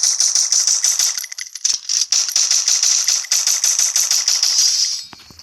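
Rapid automatic gunfire in the Free Fire mobile video game, loud, continuous bursts of rattling shots that run almost without pause for about five seconds before stopping.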